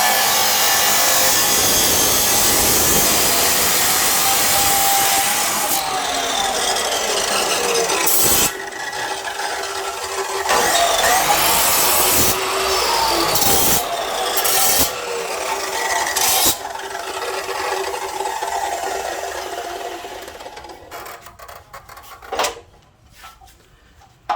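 A 14-inch BERALA abrasive fiber cut-off saw grinds and whines steadily for a long stretch, its tone rising and dipping as it bites, with brief pauses before it winds down and stops.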